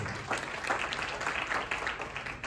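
Group clapping at a crowded Indian seminar hall, a steady dense patter of many hands lasting throughout, fairly loud and close with no voices over it.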